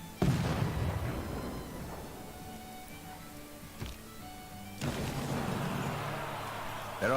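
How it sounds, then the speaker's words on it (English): Cannon bombardment in Civilization VI: Gathering Storm, heard as a sharp booming blast near the start, a smaller thud midway and another burst later, with rumbling battle ambience and music between. "Cannon bombarded for 13 damage."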